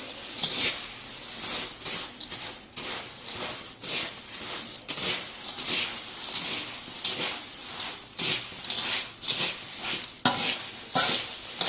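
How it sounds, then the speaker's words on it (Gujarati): Puffed rice and the other murmura chivda ingredients are tossed and mixed in a pan, making a dry, rustling crackle with repeated scraping strokes in an uneven rhythm, close and fairly loud. "હવે આપણે આ બધી જ વસ્તુઓને સારી રીતે મિક્સ કરી દઈશું."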